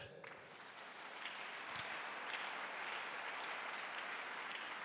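A church congregation applauds together in a hall, a broad, steady wash of clapping that swells slightly and stays fairly faint and distant throughout.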